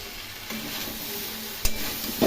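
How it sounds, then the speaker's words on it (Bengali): Spices, grated ginger and vegetables sizzle in a pan for a Bengali sabji while a spoon stirs them, a steady close fry broken by a few louder scraping stirs near the end. "একটু ভাজা ভাজা করে নেব মশলা এবং সবজিগুলো"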